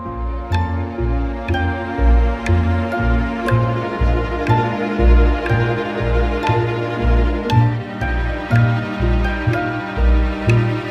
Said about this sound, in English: we have this kind of arpeggio packing out the harp number